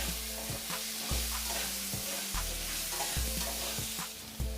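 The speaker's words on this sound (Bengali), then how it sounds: "আলু ভেজে নেব।" Potatoes with turmeric and salt frying in a pan give a steady sizzle, with regular scraping and knocking from stirring against the pan, heard close and fairly quiet with no talking.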